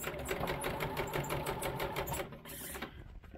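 A sewing machine back stitches the seam of 18th-century fall front trousers, with a rapid, even run of needle strokes close by that slows and breaks off near the end.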